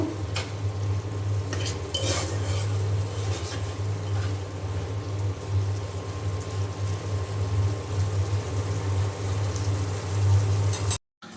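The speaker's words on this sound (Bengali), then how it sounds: "পেঁয়াজ, কাঁচামরিচ, আদা রসুন বাটা, সব কিছু দিয়ে আমি এখন এই যে মশলাটা খুব ভালো করে কষিয়ে নেব।" A spice paste of onion, green chili and ginger-garlic fries in a pan, a steady close sizzle broken by clinks and scrapes of a spoon against the metal early on, with no speech.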